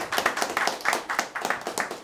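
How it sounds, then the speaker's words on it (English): A small live comedy audience claps as a vote, a thin, uneven patter of hand claps at moderate volume, with a quiet voice in the background. "start clapping if you think the winner was Greg Giraldo Jr."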